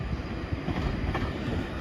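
The 0910 Avanti West Coast service from London Euston to Manchester Piccadilly, unit 390020, passes Wilms Road with a loud, continuous rushing rumble of wheels and rails, close by and without talk.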